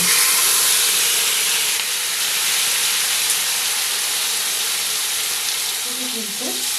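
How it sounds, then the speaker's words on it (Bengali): Vegetable omelette batter hitting hot refined oil in a pan gives a steady, loud, broadband sizzle that holds evenly throughout, with a brief low utensil scrape near the end and no talking. "এবার আমি এই তেলের ওপরে কিন্তু সম্পূর্ণ বেটারটা দিয়ে দেবো"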